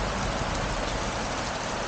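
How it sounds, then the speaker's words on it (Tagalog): Heavy rain near Mangaldan makes a dense, even hiss that holds steady throughout, with a low rumble underneath and no voices. "Tapos ang lakas ng ulan."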